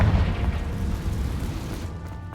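A Confringo fire spell explodes in the Hogwarts Legacy video game, a loud booming blast with a deep rumbling low end that fades over about two seconds, with no talking.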